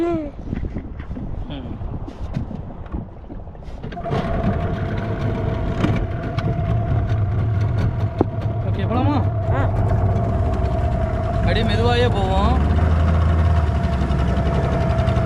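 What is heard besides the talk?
boat engine running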